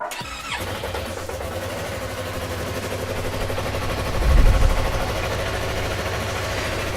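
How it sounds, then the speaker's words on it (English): A Yamaha R3 motorcycle engine cranks and catches near the start, then settles into a steady, close idle with a brief swell in revs around the middle. "Crank test. Okay, start engine."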